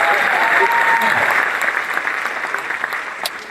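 A stand-up comedy audience breaks into loud applause that starts full and gradually tapers off over a few seconds, with a voice faintly mixed in.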